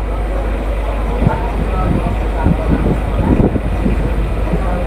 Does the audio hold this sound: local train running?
yes